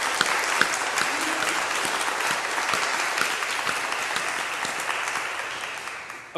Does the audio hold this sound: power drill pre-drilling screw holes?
no